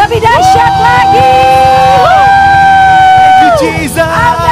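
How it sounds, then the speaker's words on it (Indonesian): A church congregation cheers, whoops and shouts loudly for Jesus, a dense sustained crowd roar with rising yells over steady rhythmic music beneath. "Beri sorak-sorak yang dahsyat buat Yesus kita"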